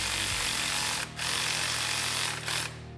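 An impact gun loosens a 16 mm bolt on the upper A-arm of a Polaris RZR PRO XP, a steady loud mechanical whir running nearly the whole time with two brief dips in intensity.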